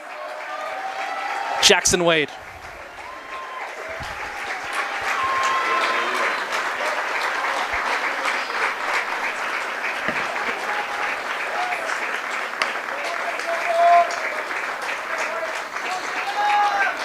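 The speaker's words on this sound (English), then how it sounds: "now heads over here to the near sideline with a round of applause from the home fans" Home fans applaud from the stands at a boys' high school soccer game between Syracuse and Davis, a steady, broad round of clapping sustained throughout while an announcer's voice talks over it.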